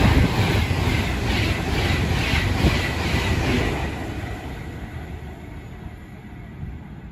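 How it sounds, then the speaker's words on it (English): An Avanti Pendolino passes through Nuneaton station with a loud, rushing roar and a rhythmic wheel beat that fades gradually as the train pulls away. "The 11:27 Avanti Pendolino from London Euston to Manchester Piccadilly."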